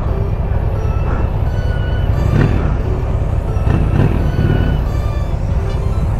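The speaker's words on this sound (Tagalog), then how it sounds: "Mas maingay yung motor ni Papa." A loud, continuous Triumph Trident 660 motorcycle engine drone blends with heavy wind rumble during a ride, steady throughout with no clear pauses.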